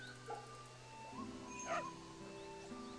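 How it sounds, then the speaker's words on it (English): A puppy in the video game Fate/Samurai Remnant whimpers and yips in several short, high, pitched cries, with game music humming steadily beneath. "Puppy!"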